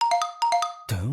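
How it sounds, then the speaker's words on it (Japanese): Two quick bursts of a phone's electronic ringtone in the game Idoly Pride, crisp, bright and close, followed by a short swelling synth tone. "電話。"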